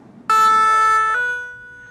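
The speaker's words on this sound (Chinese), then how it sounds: "救护车赶去事发的地点，" Ambulance siren rushing to a collapse of a huge garbage mountain in Conakry, Guinea: one loud electronic wail that starts abruptly, holds a bright tonal note, then shifts pitch and fades slightly.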